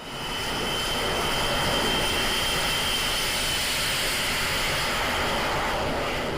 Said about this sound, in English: There's something utterly mesmerising about the F-35 jet. The sound, the heat and the power put this supersonic stealth fighter in a league of its own.